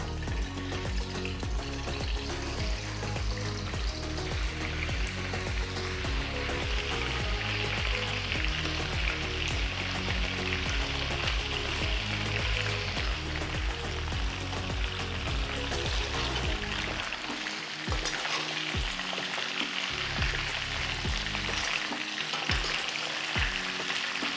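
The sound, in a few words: boiled chicken pieces frying in oil in a kadai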